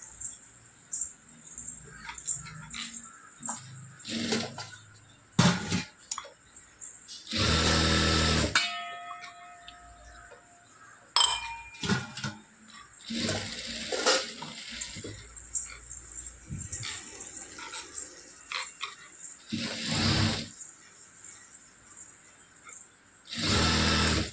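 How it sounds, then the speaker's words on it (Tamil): Stitching a fabric lining on a sewing machine, with several bursts of whirring motor run separated by pauses and small handling clicks, some short speech in between. "அப்படியே ஒரு தையல் போட்டுக்கலாம்"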